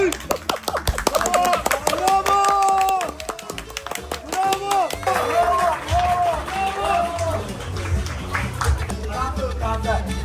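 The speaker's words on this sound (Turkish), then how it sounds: "Buradan bir alkış." A crowd claps in a rapid burst of hand applause close by, mixed with excited talking and cheering voices, the clapping thinning out toward the end.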